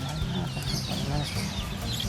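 Quails in a Thai pet shop selling egg-laying birds, a busy chorus of close, overlapping chirps and clucks running continuously through the stretch, with faint background chatter.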